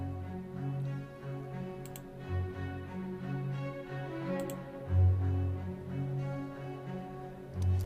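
Muted con sordino string staccatos from Albion 2 Loegria give soft, short, dampened plucks in a light pulsing figure, quiet and held in the background, with no voices.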